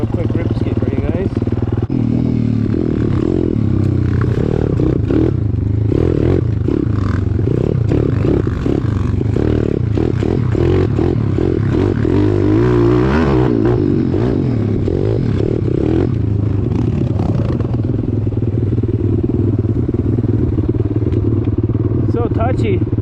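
A Pitster Pro X4 190cc pit bike engine runs and revs throughout, loud and close, with clattering and scraping mixed in and people talking over it.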